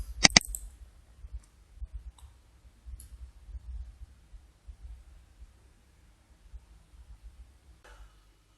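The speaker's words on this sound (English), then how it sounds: "Double click." Two quick, crisp clicks of a computer mouse, a fast double click, sound near and sharp at the start, followed by faint low hum and scattered soft ticks.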